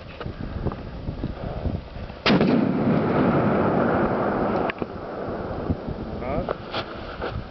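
Gunfire crashes in as one loud, sharp blast, followed by a couple of seconds of heavy rumbling roar before it drops away, with scattered smaller knocks and faint voices in the background.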